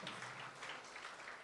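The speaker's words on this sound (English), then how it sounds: "you continue clapping until the MEC takes the comfort of his seat" A standing ovation at an inclusive education event: dense, steady audience clapping heard throughout a brief moment, fairly faint and even, with no voices over it.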